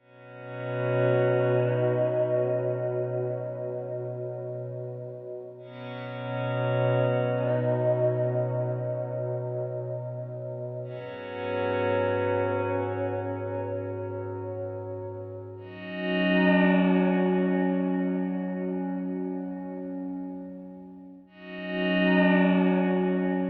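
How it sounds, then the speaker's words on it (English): Electric guitar played through effects with echo and chorus, captured by an AEA N28 stereo ribbon mic, five long ringing chords each swelling and slowly fading, clear and close with no voices. "Let's take a listen to this electric real quick."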